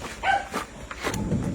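Puppy gives a few short, sharp barks and yips close by, separated by brief pauses, with no one talking.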